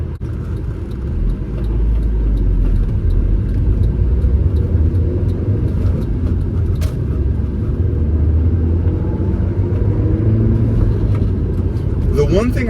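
A sporty manual car is driven, its engine and road rumble steady and close from inside the cabin, with a voice talking over the drone.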